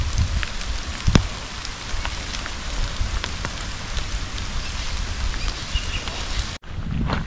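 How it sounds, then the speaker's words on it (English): Steady rain patters on leaves and surfaces nearby in a rainforest, a dense even hiss with scattered louder drops, briefly cut off near the end. "so it's not just the rain you can hear"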